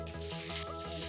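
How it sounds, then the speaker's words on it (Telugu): Cumin seeds and raw chana dal frying in hot oil for tempering, giving a close, dense sizzle with small crackles and a stirring scrape, short and without speech. "తాలింపులు చూసారా బాగా వేగినాయి"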